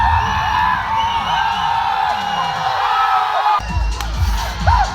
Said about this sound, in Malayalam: ഏറ്റവും അധികം ആർപ്പ് വിളി വന്നത് തലയുടെ എൻട്രി കണ്ട് പരിചയിച്ചതാണെങ്കിലും ആഘോഷപൂർവ്വം തിയേറ്റർ ഒന്നാകെ രമ്പിയാർത്തു